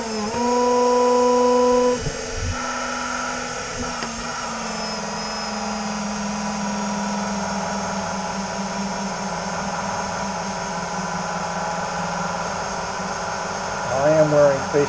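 Polishing wheel running against metal being prepared for etching: a steady motor whine with a sustained hum that shifts briefly near the start, then continues evenly and fairly close.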